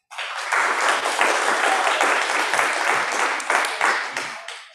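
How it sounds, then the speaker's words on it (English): An audience at a temple gathering bursts into sustained applause, dense and loud from start to finish, with many hands clapping together. "Let's give a round of applause for Charles Wills"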